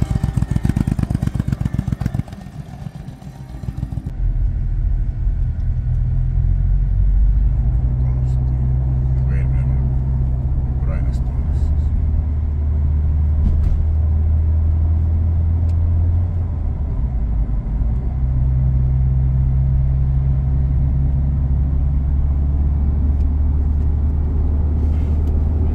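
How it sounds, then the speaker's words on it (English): Cars in slow-moving road traffic rumble with a steady low engine drone throughout, heard from inside a vehicle, while someone talks over the sound. "Cars are finally moving, but not too good."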